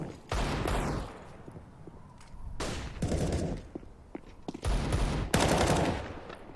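Rifle fire crackles in a Counter-Strike match on the Nuke map between FURIA and NaVi, with several loud, close bursts of rapid shots separated by short pauses.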